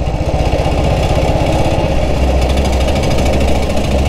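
A 1947 BSA BB31 vintage British motorcycle engine thumps loudly and steadily up close on a test ride, its rapid single-cylinder beat continuous throughout with no voices.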